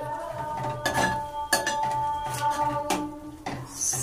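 A metal spoon stirring egg curry in a pan as coriander powder is mixed in, giving repeated clinks and scrapes against the pan in an uneven rhythm, fairly close.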